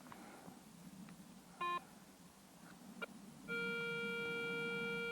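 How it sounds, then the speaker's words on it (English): A metal detector sweeping over a soil clod near a spade gives a short electronic beep, then a sustained steady tone that holds to the end, close and clear over quiet outdoor background. "The detector over it again. It's my spade it's picking up."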